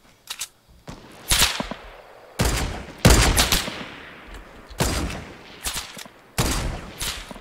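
Rapid automatic gunfire in Fortnite rings out in several loud, sharp bursts separated by brief gaps, each burst a quick rattle of shots.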